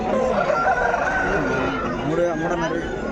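A rooster crows nearby at a poultry market in Pileru, its drawn-out call wavering up and down, with other fowl clucking and a voice murmuring in the background.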